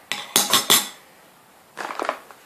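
A metal spoon clinks sharply against a bowl in a kitchen, three quick bright strikes, then a pause and a lighter, rapid rattle of taps, close and clear with no voices.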